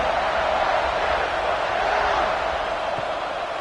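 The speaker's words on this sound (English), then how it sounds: "listen to this crowd noise. This stadium is vibrating." Steady roar of a packed stadium crowd in an NCAA Football video game during a Notre Dame at Ohio State kickoff return, a dense, unbroken wash of cheering noise throughout.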